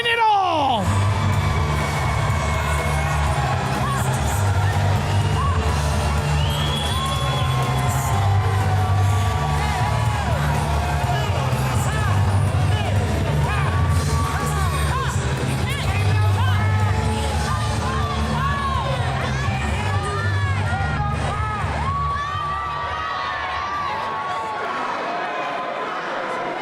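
A crowd at a live pro wrestling event cheers and whoops in a sustained roar, with shouts and bellows rising over the din before it thins near the end.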